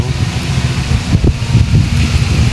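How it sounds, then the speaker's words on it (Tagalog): Strong wind roars and buffets steadily against the microphone, a continuous low rumble with gusty surges throughout. "Grabe, lakas ang hangin."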